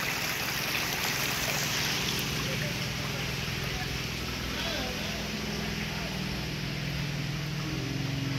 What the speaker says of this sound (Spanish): Ahí viene la agüita.